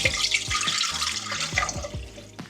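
Sun tea brewed with lemon balm and peppermint pours through a strainer into a measuring cup, a steady close trickle and splash of liquid with light drips and clinks throughout, no voices.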